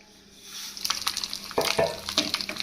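Curry leaves and three dried red chilies hit hot oil as a tempering for horse gram rasam. Quiet at first, it builds into irregular crackling pops and a spitting sizzle.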